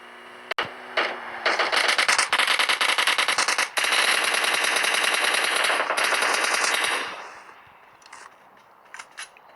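Rapid automatic gunfire in the mobile battle-royale game PUBG Mobile Lite, a dense continuous burst of shots lasting several seconds before fading to scattered distant pops.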